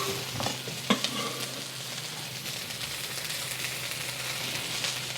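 Garlic sizzling in a hot pan with onion and beef while being stirred, a soft continuous frying hiss with a couple of faint scraping knocks early on, quiet and steady throughout.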